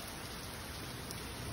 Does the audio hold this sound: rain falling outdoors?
yes